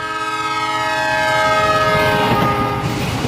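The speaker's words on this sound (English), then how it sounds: "if you've ever heard a train going by blowing its whistle." A loud train horn blares in sustained harmonic tones while the train rumbles past nearby, the pitch dropping slightly as it goes.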